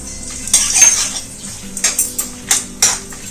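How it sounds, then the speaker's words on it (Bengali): Whole spices (bay leaf, cardamom, cloves, cinnamon) frying in a spoonful of ghee in a kadai over low heat. A spoon clinks and scrapes against the pan in a series of sharp strokes over a soft, faint sizzle. "ফোড়নগুলো কম আঁচে ভেজে নেব।"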